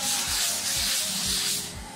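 A wall is sanded smooth before the final paint coat, with continuous close abrasive scraping in steady back-and-forth strokes roughly twice a second.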